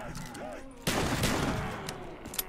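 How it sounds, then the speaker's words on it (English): Death Machine gunfire in Call of Duty zombies, a loud dense burst of rapid automatic fire that starts abruptly and roars on over a game backdrop with some voice. "I'm just gonna shoot all the walls."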